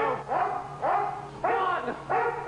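A dog barks repeatedly in a television drama scene, four loud, close barks in a steady rhythm roughly half a second apart, each with a slight whining tail.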